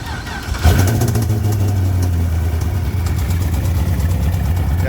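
An LS-swapped, supercharged BMW engine starts and settles into a steady idle with a low, slightly uneven rumble. It is close and fairly loud, with no talk.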